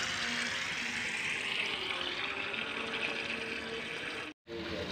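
Dirty brown water pours steadily out of a koi pond filter tank in a continuous rushing stream, fairly close, with a brief cut near the end.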